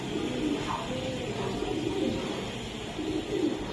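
A female racing pigeon coos softly in a loft, a low murmuring call that repeats through the moment over a steady background hum.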